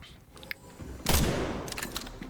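Gunfire in the video game Resident Evil Requiem: a brief tap early on, then a loud close burst of shots that trails into scattered cracks and rumbling noise.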